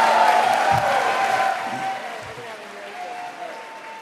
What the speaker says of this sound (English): You've never given me that kind of applause when I say it.